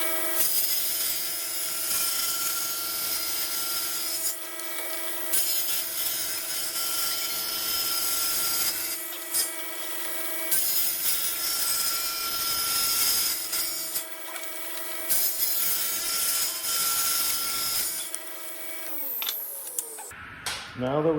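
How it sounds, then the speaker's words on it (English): A power saw cuts cherry wood into strips for a cutting board, a loud, steady whine with a strong hum that dips briefly between passes and ends with a few scraping knocks. "So we're gonna cut the cherry first"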